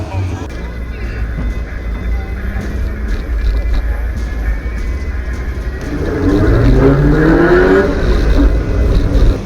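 Prostock Basic stock cars racing down the home straight at Crimond Raceway, with a steady, loud engine roar that swells and rises in pitch about two-thirds through, under a talking voice.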